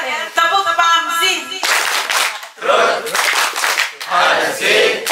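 Group clap chant at an Indonesian gathering: a crowd claps in rhythmic bursts between voiced chanting, with loud, close, punchy hand-claps in several short patterned phrases.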